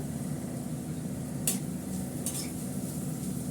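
Food fries gently in butter in a pan over low heat, a steady soft sizzle that runs the whole time, with a couple of brief metallic scrapes from stirring partway through.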